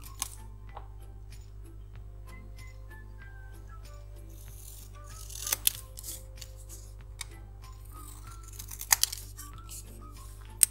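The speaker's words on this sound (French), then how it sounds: "je vais couper en biais ici et ici, car c'est ce qui sera collé sur le côté du triangle" Scissors cut a piece of paper card at an angle for a pop-up cake card, giving soft snips and rustles at close range, separated by quiet stretches and a few sharper clicks of handling.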